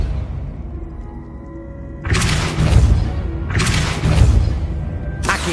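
Depulso force spell cast in Hogwarts Legacy, heard as three loud, broad whooshing blasts in a row over a quiet, humming background.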